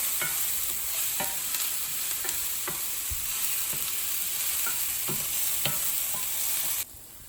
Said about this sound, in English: So I'm just mixing it up so it doesn't burn because my stove gets really, really hot.